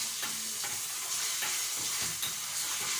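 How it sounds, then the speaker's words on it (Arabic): Garlic sizzling in ghee in a small frying pan, a loud, steady crackling hiss with occasional stirring scrapes throughout. "حطيت حته سمنه هنا في الطاسه الصغيره وعليها نص معلقه كبيره من الثوم"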